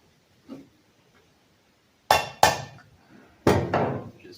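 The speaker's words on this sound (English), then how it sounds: "I could try just tapping that down maybe another millimeter." A part on a Robin 2PG golf cart engine is tapped down during reassembly: a faint knock, then three sharp, close metallic taps in two quick pairs with short ringing decay, in an otherwise quiet workshop.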